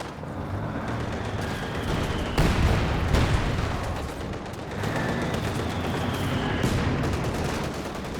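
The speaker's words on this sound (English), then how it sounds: "In fact, they're both heavy mortars." Heavy mortars and other guns firing in a Company of Heroes 2 battle, a continuous barrage of loud, overlapping gunfire with sharp blasts standing out, heard alone without talk.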